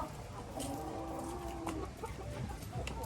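Laying hens clucking softly in a steady, busy murmur, with short higher calls breaking through now and then; no one speaks.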